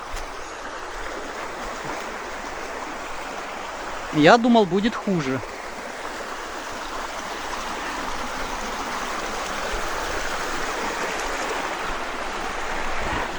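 A waterfall at a park in the Philippines rushes in a steady, loud, continuous roar of flowing water, briefly overlaid by someone speaking close by.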